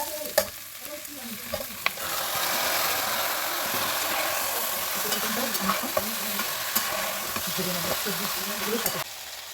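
Chicken marinated for half an hour and vegetables fry in a pan for a stew, a soft continuous sizzle broken by sharp clicks and scrapes of stirring, with a faint voice underneath.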